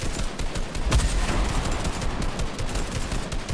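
Mounted guns rattle off dense, continuous automatic fire in a Spider-Man versus Predator army battle video game, with a sharper, louder burst about a second in.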